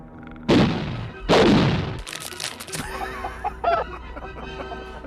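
Two sharp loud bursts are followed by a jumble of squawking, clucking chicken sounds of varying pitch.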